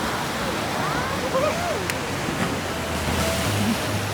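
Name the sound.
ocean waves at the Coogee natural pool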